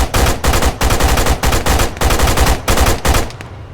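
Machine gun fire in the video game Arma 3, loud rapid bursts in quick succession, close and dominant, with no talking.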